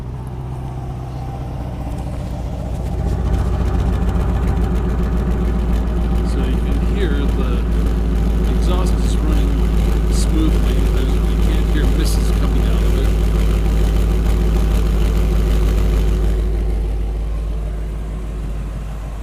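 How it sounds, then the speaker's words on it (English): A car engine after a fuel injector rebuild cranks and catches within a couple of seconds, then settles into a smooth, steady idle with a strong low rumble, close and loud before easing off at the end. "Okay, start her up. See, it starts right up."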